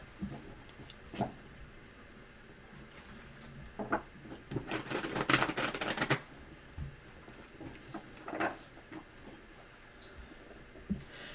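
Tarot cards are shuffled quietly, with scattered soft taps and slaps and a brief, denser riffling flurry midway, close but faint.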